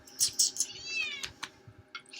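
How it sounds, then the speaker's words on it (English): A pet cat gives several short, high meows in quick succession, then one longer wavering meow, close and fairly clear over a quiet room with soft clicks. "We got a buddy cat."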